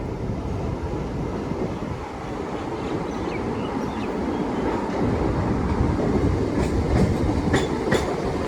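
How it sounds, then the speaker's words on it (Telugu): Kakinada–Vijayawada MEMU Express 17258 heard from on board, running on the tracks through East and West Godavari with a steady rumble and a clickety-clack of wheels over rail joints that grows slightly louder toward the end. "సో మన ట్రైన్ వచ్చేసి నిడదవోలు జంక్షన్కి అయితే వెళ్తుంది"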